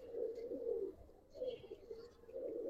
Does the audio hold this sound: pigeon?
yes